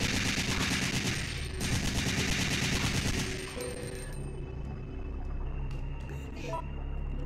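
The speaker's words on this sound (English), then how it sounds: "Man, this assault rifle is really good." Assault rifle fire in Resident Evil 3, a dense, continuous automatic burst for about three seconds, then game effects and a few scattered sharp sounds.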